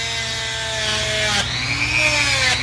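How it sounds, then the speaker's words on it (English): Dremel rotary tool spinning a worn wire wheel against a Corvair part, a steady high whine with shifting pitch and scraping grit, close and continuous, briefly dipping as the tool changes load. "So I just got the Dremel out."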